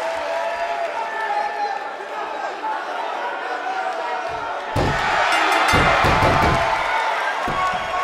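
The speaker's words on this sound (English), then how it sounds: "Listen to this crowd." Wrestling arena crowd roaring and cheering continuously, swelling louder partway through with thuds of ring action and a commentator talking over it.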